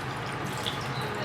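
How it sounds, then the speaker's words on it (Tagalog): Water is poured into a cooking pan, a soft, steady trickle with light dripping heard up close in a quiet kitchen. "Maglalagay lang ako dito ng tubig."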